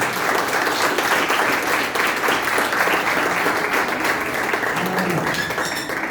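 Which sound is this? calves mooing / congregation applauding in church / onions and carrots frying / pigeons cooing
congregation applauding in church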